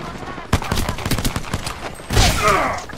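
Rapid bursts of gunfire in the video game Apex Legends crack repeatedly up close, with a heavy volley near the end, while a player talks over it.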